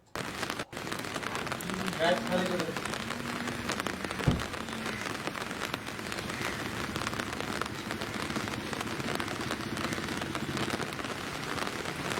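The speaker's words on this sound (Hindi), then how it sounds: "इतनी बारिश हो रही है।" Heavy monsoon rain pours steadily over a riverside area in Siliguri near the Mahananda River, a dense, even hiss lasting throughout, with a faint voice briefly audible early on.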